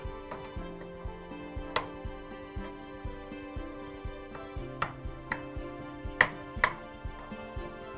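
Browning meat is chopped up in a pan on a stovetop with a steady run of sharp utensil taps against the metal, about one or two per second, over a humming background with a few louder clacks near the end.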